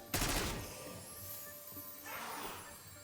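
Gunfire in the Black Ops 6 Zombies game map Citadelle des Morts, shooting at wall symbols: a loud burst of rapid shots at the start, then a quieter second burst about two seconds later, with no talk.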